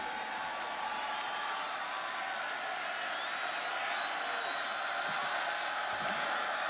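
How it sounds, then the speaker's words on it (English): A college football crowd at Carter-Finley Stadium, during Louisville vs. NC State, gives off a sustained, distant roar with scattered cheers and clapping that swells slightly near the end. "Well, the crowd back to life now"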